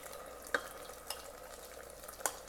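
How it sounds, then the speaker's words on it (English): Almond paste cooks in hot melted ghee in an Instant Pot while badam halwa is being made. A faint, soft sizzle continues throughout, and three brief scrapes of a stirring spoon stand out from it. "So the almond paste will be cooked in the ghee for almond halwa."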